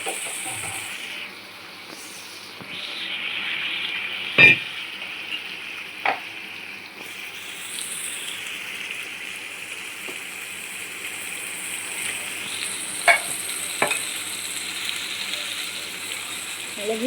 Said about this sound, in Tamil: மிளகு சீரகம் பூண்டு இதை சேர்த்துட்டு வதக்கிடணும்.